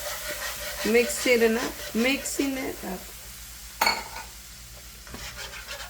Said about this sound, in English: I'm going to be adding my milk and mixing it up